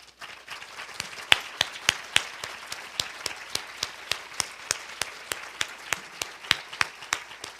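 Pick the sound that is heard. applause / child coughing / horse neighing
applause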